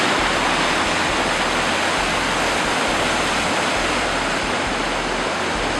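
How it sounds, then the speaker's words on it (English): Rushing rapids on the Magnetawan River, a steady loud broadband roar of churning water close by, continuous and unbroken with no voices. "rapids."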